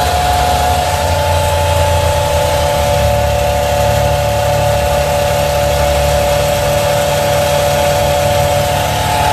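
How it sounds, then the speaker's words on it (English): An electric fuel pump with a nozzle on a large tank runs steadily while refilling a diesel generator's tank, a loud, continuous engine-like hum with a strong tonal whine held evenly throughout, with no talking. "it has a pump on it with a nozzle. You can see that right here. Just turn it on,"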